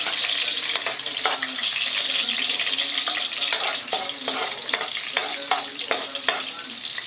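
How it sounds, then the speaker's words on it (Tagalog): Garlic and onion hit hot oil in a home kitchen pan and set up a loud, steady sizzle, with scattered clinks and scrapes of stirring running through it. "Kasi mainit na yung mantika. So, ilalagay na natin yung bawang at sibuyas."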